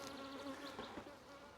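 Honey bees buzz around beehive frames, a close, steady droning hum with slight wavering pitch that carries on unbroken, with no talking.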